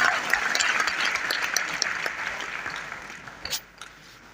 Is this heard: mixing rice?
no